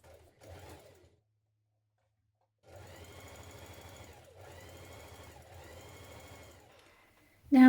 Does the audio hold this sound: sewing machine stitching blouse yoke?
yes